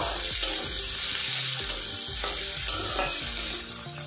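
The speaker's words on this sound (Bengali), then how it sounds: "টমেটো দিয়ে একটু ফ্রাই করে নেব" Chopped tomato with spices frying in a pan, a steady loud sizzle with intermittent stirring scrapes and soft clatter throughout, no voices.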